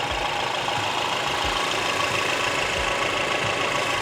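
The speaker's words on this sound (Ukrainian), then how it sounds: "Ось це двохлітровий двигун." Steady, even drone of a Mercedes GLE Coupe 350e hybrid's two-litre engine idling up close, a constant low rumble with faint rhythmic ticking throughout.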